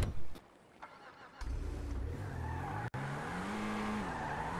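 A car in the video game GTA V drives and skids, a brief thump then engine revving and rising tire squeal with pitch sweeping up, alone without talk.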